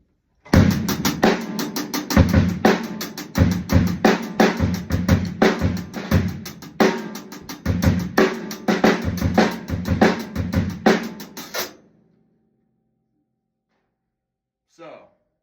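A drum kit groove played stiffly without Moeller technique, hi-hat strokes even and mechanical over kick and snare, close and loud for about eleven seconds, then silence with a faint sound near the end.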